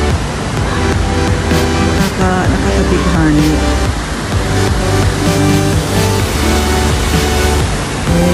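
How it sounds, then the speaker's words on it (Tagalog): Steady rushing of flowing water fills the scene at close range in the Garden of Friendship, with a voice speaking briefly over it. "Maririnig mo lang yung agos ng tubig."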